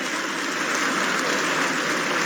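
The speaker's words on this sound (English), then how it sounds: "Give him a round of applause." Brief, loud burst of audience clapping at a city council meeting, dense and steady for a couple of seconds.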